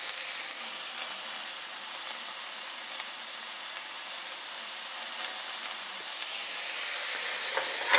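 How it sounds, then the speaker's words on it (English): Shiitake mushrooms sautéing in oil in a pan over medium heat, a steady close sizzle and hiss that stays even throughout and grows slightly louder near the end, with no voices. "Now we'll saute until it's nice and brown."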